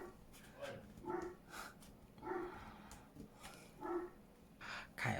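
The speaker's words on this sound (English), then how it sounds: "I'll just pause for a second till the dog had stopped barking." Dog barks outdoors in short, spaced woofs and yips, somewhat distant and moderately loud, repeating a few times over a quiet indoor background.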